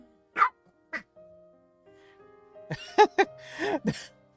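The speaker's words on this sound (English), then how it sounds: "And Lola is now growling at Miss Kitty" A dog growling at a cat indoors: a couple of short low bursts, then a louder run of rough snarling and yipping vocalizations toward the end, close to the microphone.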